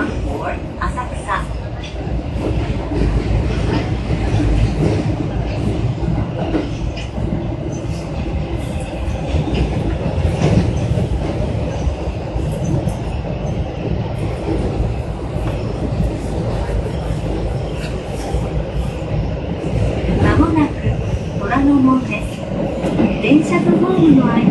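A Tokyo Metro subway train bound for Asakusa rumbles and clatters along the rails at a steady, loud level, with wheel squeals near the end and voices over the noise.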